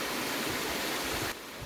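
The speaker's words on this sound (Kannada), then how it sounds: "ಇಲ್ಲಿ ಕೆರೆ ತುಂಬಿ ನೀರು ಹರಿತಾವ, ಒಂಥರ ಫಾಲ್ಸ್ ಥರ ಕಾಣಿಸ್ತದ" Water overflowing from a full village lake pours down like a small waterfall, giving a steady, broad rushing roar that stays constant and slightly drops in level near the end, with no voices.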